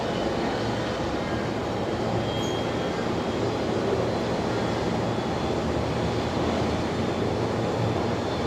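A Link Airways Metro from Coffs Harbour comes in to land on runway 01 right at Brisbane Airport, its engines a steady, distant drone that stays even throughout with no voices.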